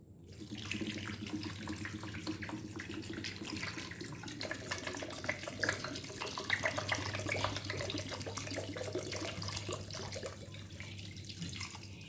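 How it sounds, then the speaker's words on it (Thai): Water streams steadily into a pot of pork bones and pork belly for a Thai mixed-vegetable soup, a continuous close rushing splash with no talk. "แล้วเราก็เทน้ำนะคะ"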